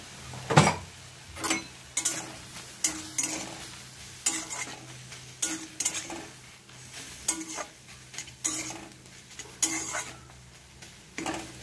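Spices with chili powder dry-roasted without oil, stirred in a pan: a quiet run of repeated scraping and clinking strokes at an uneven rhythm over a faint sizzle, with no talking.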